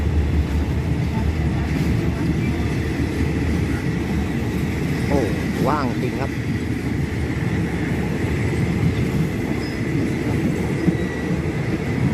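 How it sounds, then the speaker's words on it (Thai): Rapid train No. 172, hauled by locomotive QSY 5236, departs Ratchaburi station in Thailand with a steady, loud rumble of rolling wagons throughout, and brief metallic squealing tones rise midway. "ขบวนรถเร็วขบวนที่ 172 ออกจากสถานีราชบุรีกระดานมีรับส่งผู้โดยสารที่สถานีบางโป่งและสถานีมหา"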